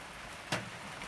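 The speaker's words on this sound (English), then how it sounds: "it's raining right now, so this is the perfect example. The water is running into the rain barrel." Rain falls steadily outside a tiny cabin, with water running into a rain barrel: an even, close hiss of drops, broken once midway by a brief louder splash.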